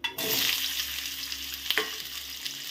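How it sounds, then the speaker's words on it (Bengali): Spice paste and jackfruit seeds hit a hot pan and burst into a loud, continuous frying hiss, with a couple of brief scraping knocks from stirring near the end. "এগুলো সব দিয়ে আমি কষিয়ে নিব, মানে ভেজে নিব"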